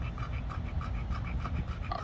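A bulldog pants steadily and rhythmically close by, quick repeated breaths filling the short stretch without pause.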